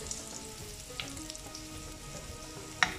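Garlic cloves sautéing in a pan for a restaurant-style chilli fish, giving a steady close sizzle and hiss of frying with a couple of small sharp crackles and a spatter near the end.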